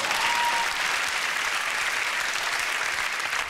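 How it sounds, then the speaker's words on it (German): Women in a studio audience clap in a dense, loud burst of applause that holds steady for a few seconds before easing slightly. "Das war nur das Klatschen zarter Frauenhände."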